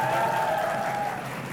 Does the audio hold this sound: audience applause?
yes